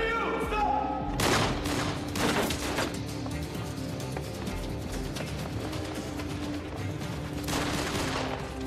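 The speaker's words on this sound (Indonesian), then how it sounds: "Dan aksi tembak-tembakan pun terjadi." A rapid, chaotic exchange of gunfire in an action film rooftop shootout, with sharp overlapping shots and bursts, loud and close, continuing throughout with rumbling thuds underneath.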